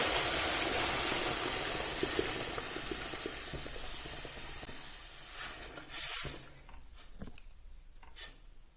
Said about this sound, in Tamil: இந்த ரவை கூடயே நம்ம எடுத்து வச்சிருக்கிற பாலை சேர்த்துக்கணும்